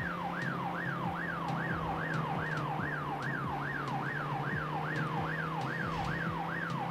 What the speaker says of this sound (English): There's lots of ambulances.